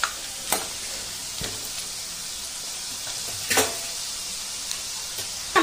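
Kara sev fries in hot oil with a steady, close hiss of sizzling, broken by a few sharp clinks and scrapes of stirring.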